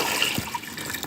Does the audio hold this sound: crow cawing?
no